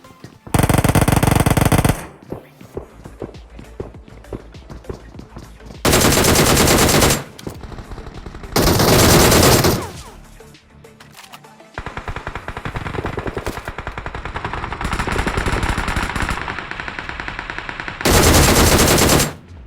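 Gunfire in the mobile battle royale game BGMI (PUBG Mobile): loud bursts of automatic fire come in several separate volleys, with quieter rattling and game sounds between them.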